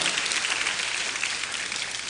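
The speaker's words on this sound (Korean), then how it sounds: "귀한 사역 잘 감당하고 몸 건강하게 돌아오셨는데 우리 박수로 우리 축복하고 환영하겠습니다" A church congregation at a youth worship service applauds to welcome a returning mission team, a dense, even wash of many hands clapping close by.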